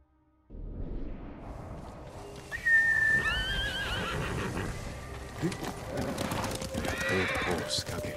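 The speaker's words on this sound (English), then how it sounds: "Old horse, Kage." A horse whinnies loudly with a rising, shaky neigh in the video game Ghost of Tsushima, followed by hoof clip-clops and shuffling over a low ambient bed, with faint voices around it.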